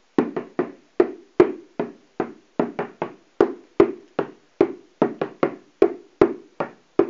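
Bodhran frame drum beaten in a single-ended triplet jig rhythm, crisp hand-driven strokes with accented taps in a steady lilting pattern, close and dry with no voices.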